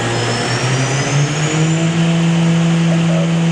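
A Doosan horizontal machining center spindle runs at high speed near 10,000 RPM, producing a loud, steady whine with a sustained tonal hum over a broad airy rush, close and unbroken.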